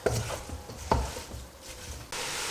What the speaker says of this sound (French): Donc là, on mélange tout ça.